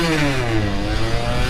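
A Yamaha YSR50 motorcycle engine idles high, a close, continuous buzzy two-stroke drone with a steady pitch and no talk over it.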